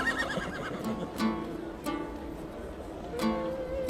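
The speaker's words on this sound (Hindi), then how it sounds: "वो मेरा अरबी घोड़ा दौड़ के लिए इंतजार कर रहा है।" An Arabian horse whinnies in a shrill, wavering neigh, followed by softer snorts and short bursts, moderately close against a quiet outdoor background.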